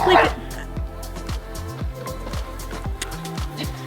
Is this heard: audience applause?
no